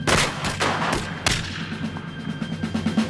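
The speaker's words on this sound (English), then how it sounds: "Present arms! Fire at will!" Soldiers firing guns in a film battle scene: a few loud, separate shots, with two sharp cracks early and another near the middle, followed by scattered fainter reports.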